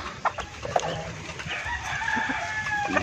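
Black Australorp rooster and hens on a farm crowing and clucking, with several overlapping calls, a drawn-out crow near the end, and duck sounds nearby in a busy outdoor poultry yard.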